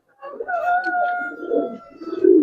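A Jabra Bagha pigeon on a rooftop loft gives a drawn-out, steady cooing call, close and moderately loud, followed by rustling and a rougher burst at the end.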